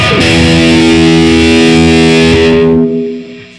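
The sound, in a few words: electric guitar lead channel boosted by Tube Screamer pedal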